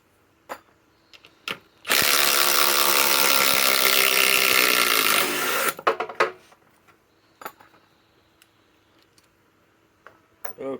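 A Kobalt XTR cordless impact driver backs fasteners out of 6-inch timber legs in one loud, dense burst of about three and a half seconds, with scattered clicks and knocks of handling before and after.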